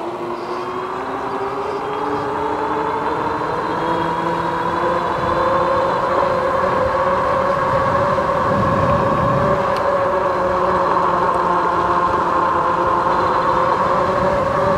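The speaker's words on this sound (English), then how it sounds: "The tires do have a pretty cool sound to them, but they are loud" Loud, steady e-bike tire hum on pavement, a EUYBIKE K6 Pro, with a continuous tonal whine, rising slightly midway and holding strong throughout, no talking.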